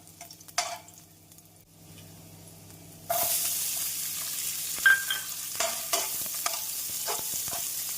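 Quiet stirring clinks, then a sudden loud, steady sizzle as chopped onions hit hot oil, with occasional utensil scrapes and taps.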